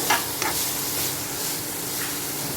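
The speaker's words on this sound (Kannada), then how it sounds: "ಉಪ್ಪು ಹಾಕಿ ಚೆನ್ನಾಗಿ ಮಿಕ್ಸ್ ಮಾಡಿದ್ಮೇಲೆ ಅರ್ಶಿಣ ಹಾಕಿ" Ridge gourd being stirred in a pan with salt and turmeric, giving a continuous soft frying sizzle and a few brief scraping strokes of the spoon near the start.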